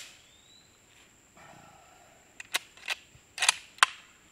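Standard .30-06 rifles fired at an outdoor rifle range, a series of sharp cracks: two quick distant shots, then a few louder ones in uneven succession after a quiet stretch with a faint tone and low rumble.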